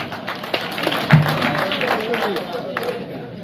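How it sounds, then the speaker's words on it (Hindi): Clapping from the audience at a Hindi poetry and comedy stage event, a steady spread of applause with someone speaking over it into a microphone. "इनके लिए भी तालियां बजाओ प्लीज"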